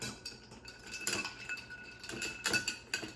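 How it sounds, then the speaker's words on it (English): Ice stirred in a cocktail glass for a Martinez gives soft, quick clinks and chinks in short irregular clusters, fairly faint and close. "we're gonna put some ice in here and stir this bad boy up"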